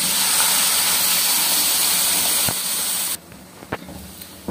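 Water poured into a pan of semolina halwa, a loud steady steaming hiss that stops abruptly near the end, followed by a few faint clicks.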